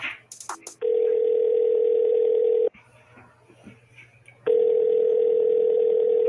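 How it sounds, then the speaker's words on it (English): A telephone ringback tone sounds after a call is dialed: two long, steady electronic tones separated by a pause, clear and close, with faint background noise and no talking. "I dial him."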